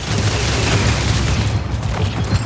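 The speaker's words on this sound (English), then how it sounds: "Its prime ability is Search and Destroy, which activates shoulder-mounted missile pods that fire heat-seeking missiles." Heat-seeking missiles from shoulder-mounted pods in the game Marathon launch in a dense, loud barrage of booming, rumbling bursts that keeps rolling without a break.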